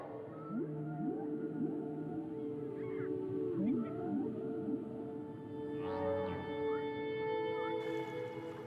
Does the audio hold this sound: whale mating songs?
yes